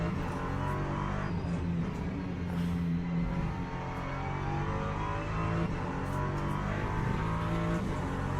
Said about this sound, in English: Oh, he's locking up the tyres